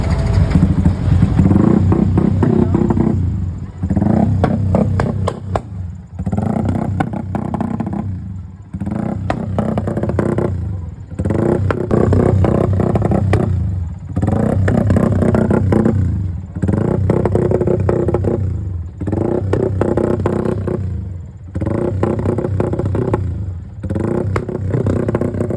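A Sniper motorcycle engine warms up at a crowded motorcycle show, revving loudly and close in repeated bursts with short dips between throttle blips.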